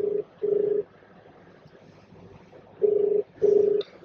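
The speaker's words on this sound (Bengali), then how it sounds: "মামাকে ফোন করছি" A phone ringback tone on an outgoing call: two pairs of steady, clear electronic tones, each pair followed by a long silent gap, close and alone.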